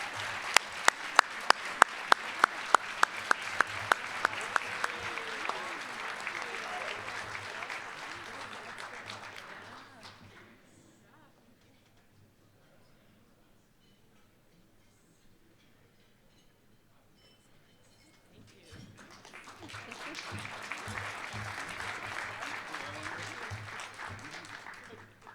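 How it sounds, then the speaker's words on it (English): Audience applause at an economic forecast event: a loud, dense round of clapping with a few sharp individual claps early on fades out to near silence, then a second round swells up again and continues. "let's give another round of applause to the team"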